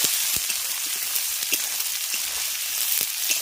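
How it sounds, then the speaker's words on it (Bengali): Cauliflower, peas, beans and other vegetables fry in hot oil with a continuous close sizzle and scattered small crackles and pops. "ফুলকপি আর মটরশুঁটি এবার সমস্ত সবজিগুলোকে আমি ভেজে নেব"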